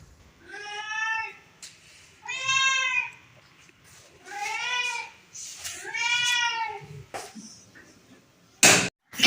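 A hungry tomcat at a rural household meows for milk, four long drawn-out yowls in slow succession, close and clear, followed by a couple of short knocks at the end.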